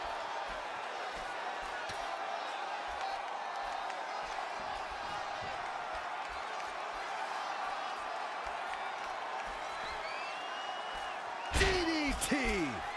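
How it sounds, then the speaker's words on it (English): A capacity arena crowd in the WWE 2K20 wrestling game murmurs and cheers continuously under commentary-style talk, with scattered thuds of ring impacts and a louder swell of cheering near the end. "With every move you make, you hear this capacity crowd following you on that journey."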